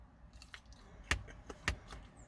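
Crunchy fish-shop chips being chewed close up, a few soft crisp bites and crunches spaced through a quiet moment.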